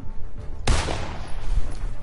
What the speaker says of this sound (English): Oh, gunshots.